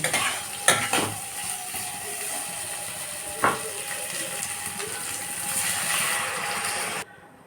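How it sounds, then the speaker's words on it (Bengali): A spoon scrapes and stirs tomato, potato and lentil curry in a metal pan, with a few sharp clinks early on and a steady low sizzle throughout, close and alone without talk. "টমেটো কুচি দিয়ে দিলাম স্বাদ মতো লবণ দিয়ে দেবো হলুদ আলুটাকেও দিয়ে দেবো অল্প একটু নাড়াচাড়া করে জল দিয়ে দেব"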